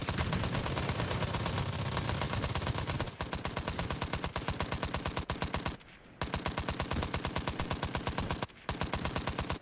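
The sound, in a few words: machine gun fire in the video game Trenches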